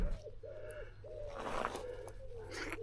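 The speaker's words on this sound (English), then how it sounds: "Can you hear the pigeons?" Pigeons cooing outdoors near a shed work site, a series of soft, low, rounded coos in a slow repeating rhythm, with a brief rustle or noise burst in the middle and a faint background hum.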